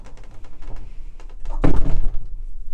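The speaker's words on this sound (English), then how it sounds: "So to close the door, you just pull." A toilet cubicle door in a spacious Narita airport restroom is pulled shut, giving a single close thunk about halfway through amid quiet room ambience.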